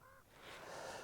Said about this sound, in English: Boy, I'm sure hearing those ravens squawk.